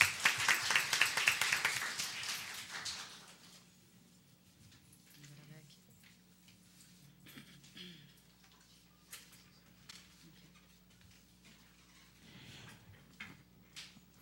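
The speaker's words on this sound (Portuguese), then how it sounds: "Uma salva de palmas." A burst of audience applause at a public hearing on youth and public policy in Osasco fills the first few seconds, then fades into quiet room noise with scattered movement.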